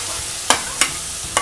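Onions and tomatoes sautéed in a pan for a makhana (foxnut) curry, a steady low sizzle broken by three sharp scraping stirs of a spatula, close and alone with no talk.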